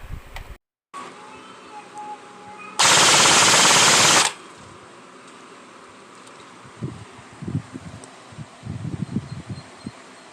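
A Delta Airsoft M4 RIS airsoft rifle fires one loud, sustained full-auto burst of about a second and a half, close by, with outdoor ambience and faint rustling before and after.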